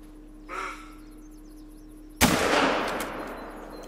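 A single loud hunting rifle shot fired at an animal in theHunter: Call of the Wild, a sharp crack followed by a long rolling echo that decays slowly. It comes after a soft rustle of ambient outdoor sound, with no talking.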